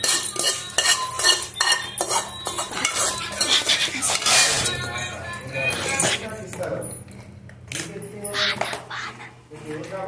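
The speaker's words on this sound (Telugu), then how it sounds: "నేను రోట్లో వేసి కొడుతున్నాను చూడండి" Chillies for nalla karam are pounded in a stone mortar, giving a series of sharp, irregular knocks and grinding scrapes over about ten seconds, with a voice talking over the pounding.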